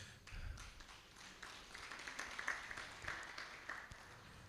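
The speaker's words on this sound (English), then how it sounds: "Let's give you a round of applause." Faint, distant round of applause from an audience at a business summit, a steady patter of many hands lasting several seconds with no clear voices over it.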